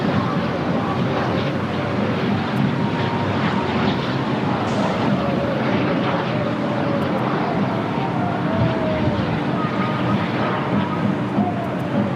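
NetJets jet aircraft at LAX giving a steady, loud, broadband engine roar that holds throughout, with faint shifting tones and occasional talk underneath.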